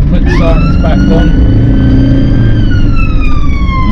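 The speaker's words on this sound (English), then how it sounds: "we'll put the sirens back on" A UK ambulance siren wails loudly over the running vehicle engine, its tone rising and holding in a long sustained sweep.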